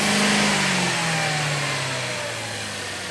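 A car engine revving during mass air flow sensor testing, loud and close, its pitch sliding steadily down as the revs fall back toward idle, with no talk over it.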